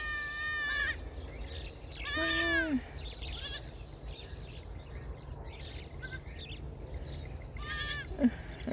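A small young goat bleating on a farm, three faint high wavering bleats spaced apart over a quiet outdoor background.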